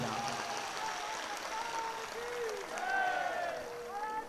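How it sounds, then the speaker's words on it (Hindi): Loud crowd applause at a devotional religious gathering, a continuous rush of clapping throughout with raised voices and shouts layered over it. "जोरदार ताली इनकी भक्ति सेवा के लिए बजाओ"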